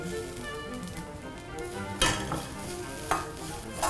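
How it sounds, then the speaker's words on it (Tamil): Grated coconut is lightly sautéed in a pan, giving a soft continuous sizzle with a couple of brief scraping stirs of a spatula, close by and fairly quiet. "அடுத்து தேங்காயை சும்மா லேசா இல்லாம லேசா வதக்கணும்."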